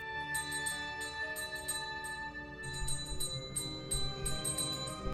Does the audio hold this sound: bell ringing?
yes